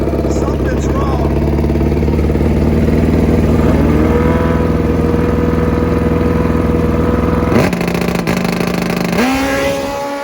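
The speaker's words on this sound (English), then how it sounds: "You got a wounded bike that's running dead on four. Got a wounded bike. It's literally running on 3 cylinders right now." A damaged Suzuki GS motorcycle engine misfiring on three cylinders, a loud steady idle drone with a lumpy uneven tone that changes pitch near the end, while people talk nearby.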